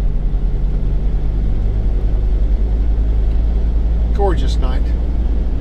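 An old Dodge 2500 pickup with a V10 engine driving at night, a steady low engine rumble and road noise filling the cab throughout, with someone briefly speaking over it.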